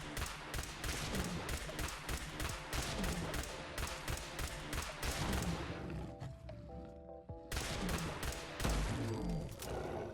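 Rapid shots from a handmade laser pistol in Fallout 4, fired at a Deathclaw. A dense, steady string of loud, punchy blasts fills most of the stretch, broken by one brief pause before the firing resumes.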